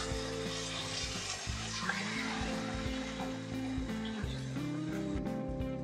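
Rabbit meat hitting half a cup of hot oil in a karahi, a loud, steady sizzle and crackle of frying that carries on unbroken, with faint talk beneath it.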